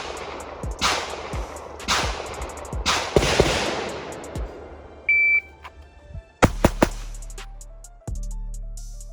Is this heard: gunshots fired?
yes